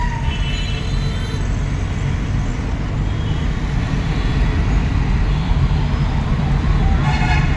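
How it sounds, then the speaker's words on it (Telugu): Dense road traffic roars steadily throughout, a continuous broadband rumble of many passing vehicles, with distant horn-like tones drifting in and out. "ట్రాఫిక్ ఉంది బాగా"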